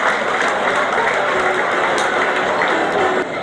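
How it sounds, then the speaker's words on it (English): An audience at a 2015 Coventry sidecar speedway meeting applauds with a steady, continuous patter of clapping that holds at an even level for several seconds. "Let's give them some applause, ladies and gentlemen"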